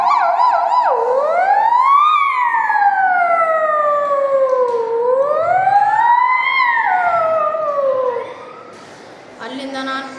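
A voice imitates a passing ambulance siren on the road, with loud, continuous rising and falling wails that fade near the end.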